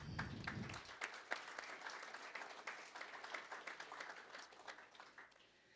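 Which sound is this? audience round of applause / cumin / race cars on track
audience round of applause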